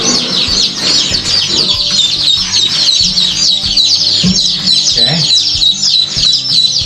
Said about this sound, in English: Count your baby chicks as you dip them